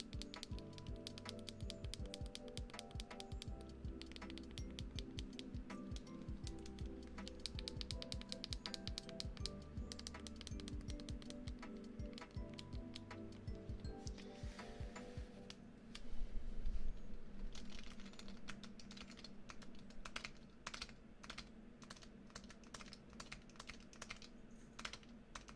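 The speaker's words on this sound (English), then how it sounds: "And these ones are very clicky." Clicky buttons on a game controller, start, back and home, pressed rapidly and repeatedly, giving dense close clicking that is very quiet and steady throughout, with a brief soft bump partway through and no talk.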